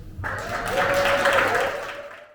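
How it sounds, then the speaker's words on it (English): An audience at a book tour event applauds as a poet comes up to the stage, a short swell of many hands clapping that rises after a brief pause and fades within a couple of seconds. "I am going to have us clap Hanif up to the stage."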